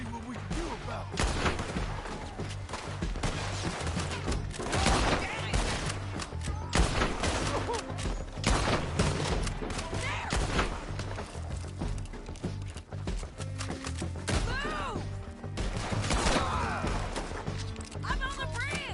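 Rapid gunfire crackles throughout a Red Dead Redemption 2 shootout on a bridge, dense overlapping shots with hoofbeats and voices mixed in, loud and continuous for the whole stretch.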